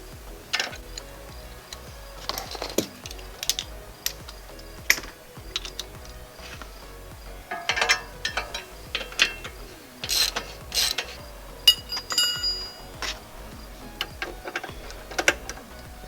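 A wrench with a star bit working the lower rear shock bolt on a Harley-Davidson Sportster, giving irregular metallic ratcheting clicks and clinks in short bursts with pauses, close and fairly crisp, no speech.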